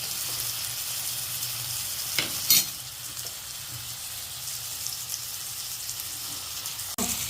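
Cauliflower and chana dal curry sautés in a pan, a continuous close sizzle with a few scraping stir clicks and a sharp clank near the end, no talking.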